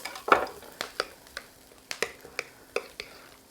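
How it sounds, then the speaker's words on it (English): Peppers and onions are stirred as they fry in a pan, a run of sharp scraping and clinking strokes spaced in an uneven rhythm, heard close over a faint, steady sizzle. "All the while stirring my peppers and onions,"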